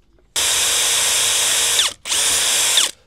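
A power drill whirs loudly in two bursts, the second starting after a short pause, with the motor pitch shifting slightly as it bites.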